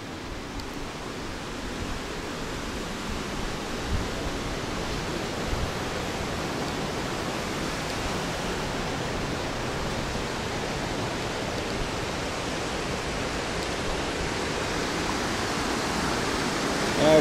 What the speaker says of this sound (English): I can hear a river of some sort